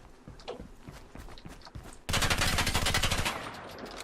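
Automatic gunfire in the in-development video game Operation Hellstorm: after a couple of seconds of faint clicks, a loud, rapid machine-gun burst with evenly spaced shots rattles for over a second, then cuts off.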